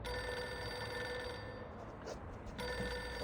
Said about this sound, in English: The assistant, buried in paperwork, fails to react to the ring.